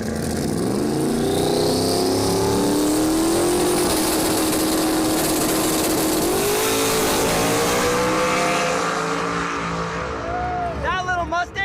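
A Mustang race car accelerates hard down a drag strip, its loud engine roar climbing steadily in pitch before fading as it pulls away, while people talk and cheer over it.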